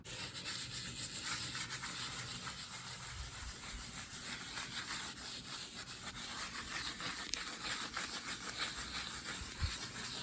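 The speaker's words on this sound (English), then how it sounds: "The way I do it is I scrub it all first in sections, at least till my sponge is saturated." A sponge scrubs freshly laid kitchen floor tile grout in a steady, continuous rubbing wash, fairly close and even in level, with no voices.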